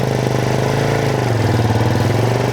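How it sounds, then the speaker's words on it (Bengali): A modified Road Master 80cc motorcycle engine idling close up, a loud steady rapid putter with a slight wobble in pitch, no talk. "একটা সাউন্ড আছে ইঞ্জিনে রেস্ট একটু কমাই দিলে সাউন্ডটা আরও সুন্দর আসবে"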